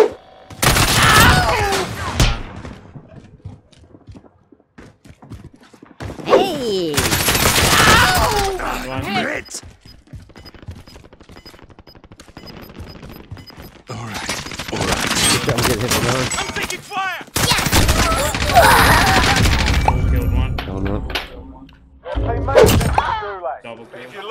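Bursts of gunfire and explosions in the Warzone video game, loud repeated volleys with crashing impacts separated by quieter lulls, with players talking over the action.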